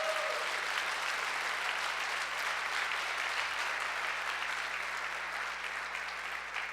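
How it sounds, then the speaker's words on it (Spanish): Church congregation applauding during a Spanish-language sermon, a steady, even wash of many hands clapping that fills the whole stretch at moderate loudness, heard a little distant. "Dale un fuerte aplauso a Dios y le vas a dar."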